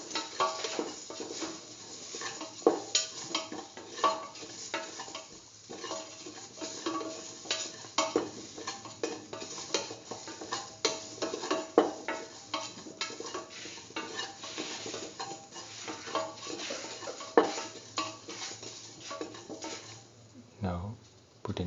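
Half a spoon of cumin seeds frying and crackling in hot oil in a pan, with steady stirring and clinking of a utensil against the metal throughout, a voice talking intermittently over the cooking.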